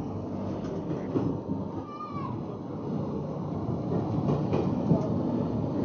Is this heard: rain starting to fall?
no